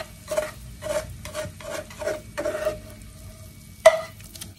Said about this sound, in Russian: И теперь перекладываем картофель во взболтанные яйца.